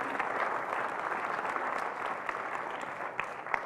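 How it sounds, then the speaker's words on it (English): Audience applause at a conference closing plenary, a steady wash of many people clapping at moderate distance, with a few sharper individual claps standing out near the end. "So let's give us all collectively a round of applause for that contribution"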